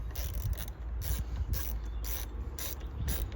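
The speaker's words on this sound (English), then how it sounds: "Now we're going to undo this Jubilee clip, just there. I'm using a 7mm." A 7mm ratchet works a Jubilee clip loose on a Peugeot 208, giving a steady run of quick clicking and mechanical ratcheting at close range, with no talking.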